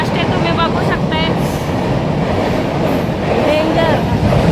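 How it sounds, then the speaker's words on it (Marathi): A fast train rushes through a railway junction with a loud, continuous rumble and rattle that holds steady throughout. Voices can be heard over the noise. "जंक्शन ट्रेन आलेले आहे काही. लय फास्ट आहे"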